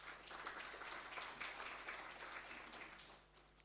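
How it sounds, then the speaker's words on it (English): Audience applause at a memorial service, steady clapping from a crowd sustained for a few seconds before tapering off, heard at a distance in a hall. "May we give our institution a hand of applause."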